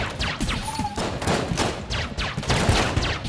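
Gunfire in the video game Enter the Gungeon: dense, rapid bursts of loud shooting and impact thuds fill the stretch continuously, close and punchy.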